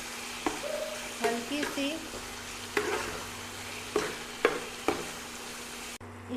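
Yogurt cooks in a pan for a duck egg curry, a steady close sizzle with a few scraping stirs, while someone speaks briefly.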